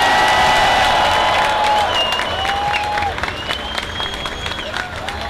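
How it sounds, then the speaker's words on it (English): Crowd at a national demonstration for Gaza applauding and cheering a student activist, dense loud clapping with whoops and shouted voices mixed in, gradually thinning out. "Give him a big round of applause."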